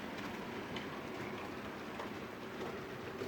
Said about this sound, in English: This is a nice smooth loco as well. A large prairie.